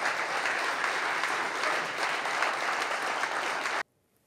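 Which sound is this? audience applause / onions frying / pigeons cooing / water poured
audience applause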